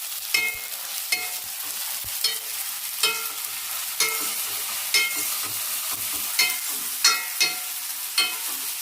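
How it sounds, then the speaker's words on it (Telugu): Onion, green chili and ginger-garlic paste fry in a pan under a steady sizzle, with a spatula scraping and stirring in regular strokes about once a second. "అల్లం వెల్లుల్లి పేస్ట్ పచ్చి వాసన అంత వరకు బాగా ఫ్రై చేసేసుకోవాలి."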